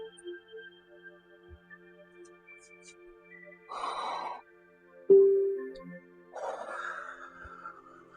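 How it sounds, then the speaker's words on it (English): Deep belly breathing during a guided relaxation exercise: two long, airy breaths, each drawn in through the nose and let out through the mouth, heard up close against a quiet background with a faint low hum. "we're inhaling through our nose and exhaling really deeply out of our mouth"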